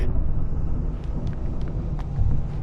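A thunderstorm in the game Alan Wake Remastered: a loud, continuous low rumble with a rough wind-like roar and faint scattered crackles, steady throughout with no voices.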